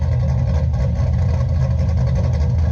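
A cammed C6 Chevrolet Corvette idles close by, its engine giving a loud, deep, steady rumble with a slightly choppy, lumpy pulse and no talk over it.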